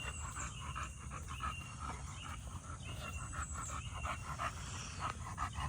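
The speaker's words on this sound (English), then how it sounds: "You're gonna have to excuse her panting." A pregnant dog pants quickly and steadily, close by, with soft rapid breaths over a constant background hum.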